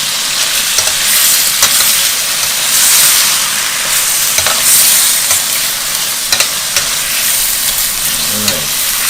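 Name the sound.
frozen vegetables frying and being stirred in a pan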